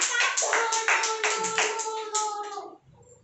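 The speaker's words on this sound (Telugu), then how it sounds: "క్లాప్స్ పట్టండి సన్వితకి" A group of children at an Anganwadi centre clapping for a classmate, a burst of rhythmic, fairly loud claps with sung or chanted voices over them, stopping abruptly near the end.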